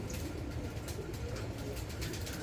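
Imported breeding pigeons coo softly and continuously in a loft, a faint low murmur under a broad background hiss.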